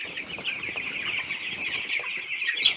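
Pushtiraj hatchery broiler chickens cluck and chirp together in a shed, a dense, continuous chorus of many birds with brief wing flaps, close and fairly loud with no talking.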